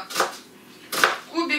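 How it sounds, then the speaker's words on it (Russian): Knife chopping a hard onion into cubes on a kitchen board, a few crisp cuts in two short bursts with a pause between. "Теперь нужно порезать лук и морковь. Лук просто"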